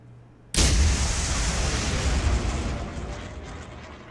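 A surface-to-air missile in the video game Garry's Mod fires with a sudden loud blast, followed by a sustained roaring rumble that slowly fades over several seconds.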